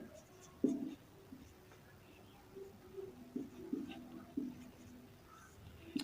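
Pen or chalk writing out a date for a calendar reasoning problem, scratchy strokes in short bursts over a faint steady background hum.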